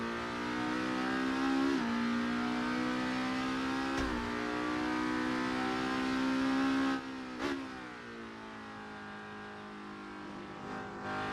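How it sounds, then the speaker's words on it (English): A Supertourer race car engine in Assetto Corsa at Spa sits at sustained high revs with a harmonic whine. It drops briefly on quick gear changes, then settles at a slightly lower held pitch. "you can over-rev the engine as well"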